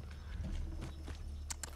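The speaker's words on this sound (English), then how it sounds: "I'm taking the horse." Horse hooves clip-clopping in the video game Far Cry 6, soft regular footfalls over a low background rumble, with a couple of brighter sharp clicks near the end.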